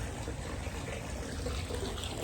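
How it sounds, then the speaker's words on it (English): Natural spring water spurts and trickles from a rusted pipe outdoors, a faint continuous splashing and gurgle with a low background rumble. "delicious natural spring water that spurts from the ground"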